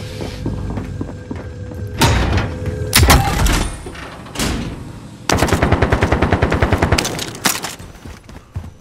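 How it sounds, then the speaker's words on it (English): Call of Duty: Modern Warfare in-game gunfire: scattered heavy shots and thuds, then a rapid automatic burst of evenly spaced loud rounds, with busy game ambience throughout and no voices. "I'm taking fire!"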